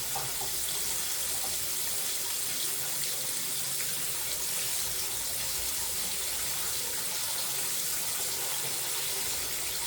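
Water runs steadily from a tap in a continuous hissing stream, rinsing food in a kitchen, close and fairly loud, with no pauses.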